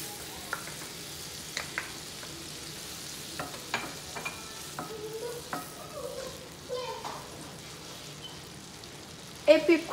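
Onions fry in melted butter in a cooking pot: a faint, low sizzle broken by scattered soft pops and clicks, with a louder burst of crackling near the end.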